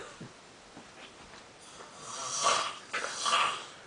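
A drunk man snoring while asleep, with rough, wheezy breaths that swell louder toward the end, close by over a quiet hiss.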